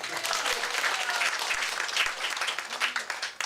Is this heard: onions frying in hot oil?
no